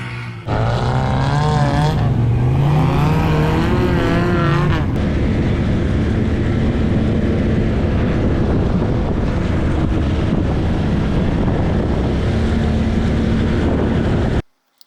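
An off-road vehicle on mud tires pushes through thick, goopy mud, its engine droning loud and continuous with revving pitch changes early on, heavy wind buffeting, and a broad churning rumble throughout until it cuts off abruptly.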